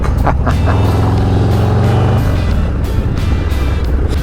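Road traffic in London heard from a moving motorcycle, a loud continuous engine and wind roar with the rumble of nearby vehicles as the bike squeezes through a gap.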